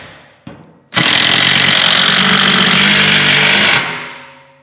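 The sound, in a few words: power tool driving a lag screw with washer into 2x4 and wall stud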